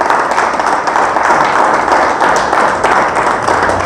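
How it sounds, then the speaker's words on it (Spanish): A church congregation claps loudly and continuously, a thick even roar of many hands with small swells, and little else audible over it. "Le damos una ofrenda de palmas a nuestro Dios."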